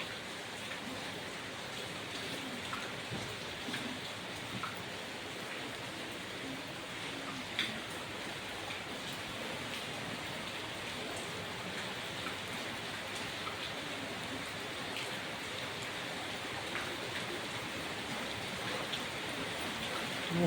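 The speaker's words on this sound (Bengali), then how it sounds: "বৃষ্টি পড়ার আওয়াজটা খালি শোনো একবার" Heavy rain pours down steadily for the whole stretch, a dense, even wash of drops drumming on surfaces with no voices, loud and continuous from start to finish.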